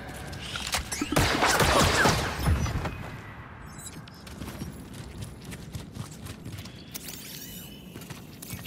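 Blaster fire in Star Wars Jedi Survivor, a loud flurry of sharp shots early on that gives way to scattered clanks and footsteps.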